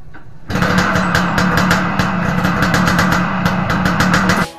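A Suzuki A100 motorcycle fitted with a Yamaha F1Z-R exhaust fires up from a soft idle into a loud, raspy two-stroke drone that holds steady for several seconds before cutting off.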